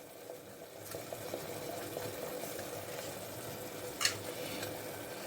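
Spices sautéing for rajma in a pan, a soft continuous sizzle with light stirring scrapes and one brief sharp clink, quiet and close, with no talking.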